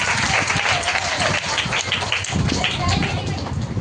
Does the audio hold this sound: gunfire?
no